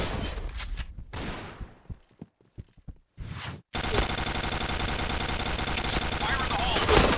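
Famas G2 rifle fire in the video game Point Blank: scattered single shots and short bursts, then a sustained rapid automatic burst running loud and continuous to the end.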